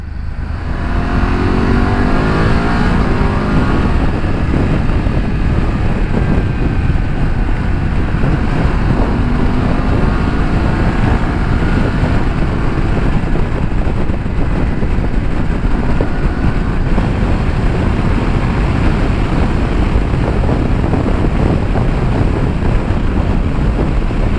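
Wind roaring past a rider on a 2019 BMW F750GS motorcycle at steady cruising speed, a loud, constant rushing buffet mixed with engine drone, unbroken from start to finish.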